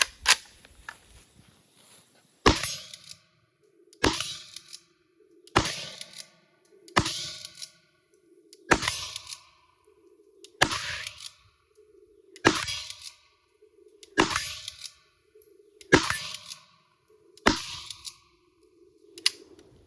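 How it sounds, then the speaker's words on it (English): Romanian PAR-3 pump-action 5.56 AK rifle fired outdoors about ten times at steady intervals, each sharp report followed by a brief echo and the clack of the pump action. "So let's shoot a little bit more."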